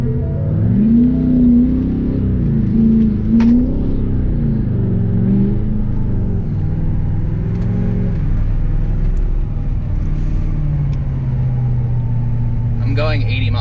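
A tuned, deleted 2017 Ford Super Duty truck revs hard as one wheel spins in snow, its engine rising and falling near and loud while people talk over it.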